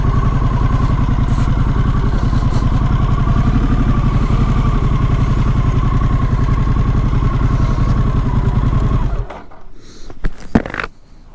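A Harley-Davidson Pan America motorcycle rides along a snowy road, its engine a loud, steady, throbbing drone heard up close, which abruptly fades near the end into faint wind and a few knocks.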